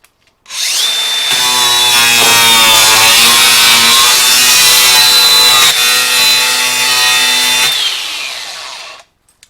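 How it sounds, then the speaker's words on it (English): A stripper disc grinds paint off the bodywork of a Volvo 142, giving a loud, steady, whining grind that runs unbroken for about nine seconds with no talking. "I'm using this stripper disc"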